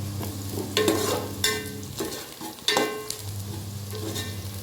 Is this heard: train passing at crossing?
no